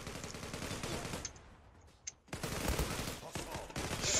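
Rapid M4A1 rifle gunfire in a Turkish-language online shooter game, dense bursts of shots before and after a brief lull, close and loud.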